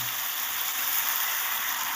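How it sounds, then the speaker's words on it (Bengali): Amodi fish frying in a pan for a Bengali fish chorchori gives a steady, even sizzle of hot oil. The sound holds close and constant for the whole stretch, with no voices over it. "মাছটা ভাজা হয়ে গেছে"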